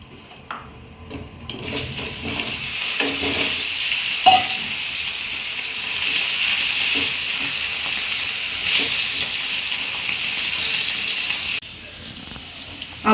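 Potatoes frying with turmeric and salt in a pan, a steady loud sizzle that holds for several seconds with faint stirring clicks, quieter at the start and end.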